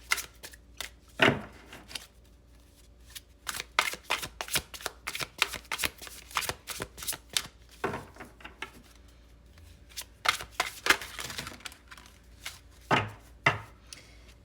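Tarot cards are shuffled during a card reading, giving crisp riffling bursts and soft slaps that come in quick irregular clusters, close and fairly quiet, with no talking.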